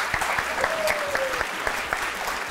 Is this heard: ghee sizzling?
no